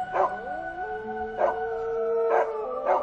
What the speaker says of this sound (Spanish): escucharon cómo los dos perros que tenían sus vecinos comenzaban a aullar.